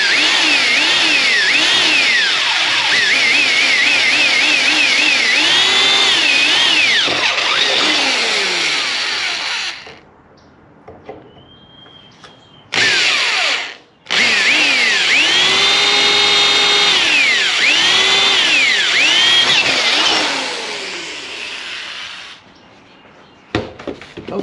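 A power drill with a dull bit bores into a roof rack while auxiliary lights are fitted to a Range Rover Classic overland rig. It whines and grinds loudly, its pitch rising and falling, breaks off at about ten seconds, then returns in short bursts and a long stretch before stopping.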